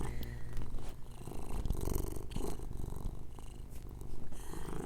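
A feral cat purrs close up in a steady, continuous low rumble with a slightly pulsing rhythm, with no voices.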